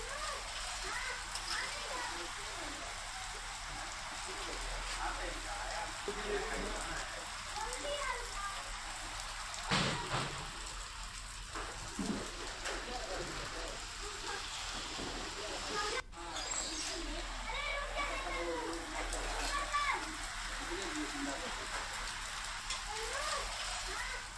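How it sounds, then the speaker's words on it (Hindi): Rain from a thunderstorm falls steadily in a faint, even hiss, with occasional louder splashes, running beneath a narrator's voice throughout. "कई इलाकों में गरज चमक के साथ बारिश हुई"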